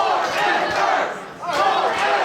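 A wrestling crowd at a tag team invitational roars and cheers in loud swelling waves, dipping briefly before surging again.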